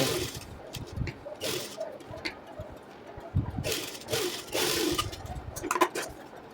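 Sewing machine running a double line of stitching on Angrakha top fabric, in several short whirring bursts with brief pauses between, fairly quiet and close, with small handling noises around.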